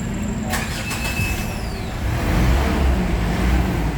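A car engine cranks briefly on a newly repaired starter motor and catches, then settles into a steady idle that grows slightly louder, heard close up in an auto-electrical workshop.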